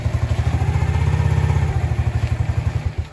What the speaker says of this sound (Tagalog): Bendex drive ang problema ng ating starter.